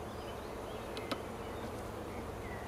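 Black honeybees drone at an open hive during a spring inspection, a dense, steady, fairly faint buzz with a few individual bees zipping close by.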